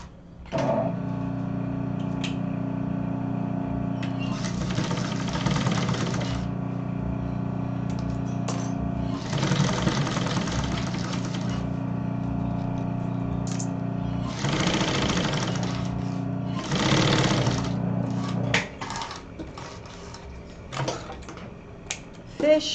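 A sewing machine runs a closing seam at stitch length 3.5 on a fabric double cosmetic case, with several bursts of rapid, steady stitching separated by pauses and brief handling clicks.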